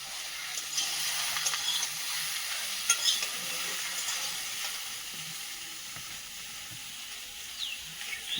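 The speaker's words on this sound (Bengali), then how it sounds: "অনেকদিন পরে বাড়িতে ছোলা কচু রান্না হচ্ছে" Chickpeas and taro (chola kochu) cooking in a pan, a steady soft sizzle and hiss with occasional faint stirring scrapes, fairly quiet and continuous throughout.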